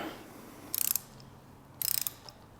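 Ratchet wrench tightening a loose bolt in an engine block with stripped threads, two short bursts of rapid clicking about a second apart, close and crisp in a quiet space.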